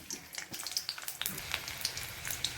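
Garlic crackles in hot oil in a pan while cooking a fenugreek leaf dish, a faint patter of quick, uneven pops over roughly two seconds.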